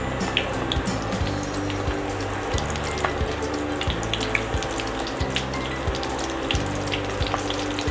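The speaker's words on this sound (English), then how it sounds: "Drop it nicely. Cook it on a low flame." Batter-coated onion rings made with corn flour and all-purpose flour frying in oil over a low flame, a steady bubbling sizzle with soft crackles running throughout at moderate level, no voices.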